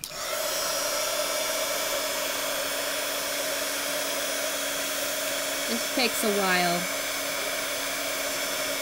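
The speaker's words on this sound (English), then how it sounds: "next I gotta take the heat gun" A heat gun blows steadily on paper for a crafting project, a constant broadband hiss and whine running throughout, with a brief voice speaking over it near the end.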